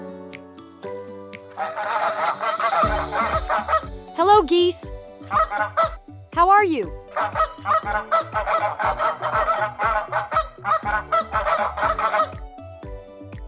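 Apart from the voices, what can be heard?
geese honking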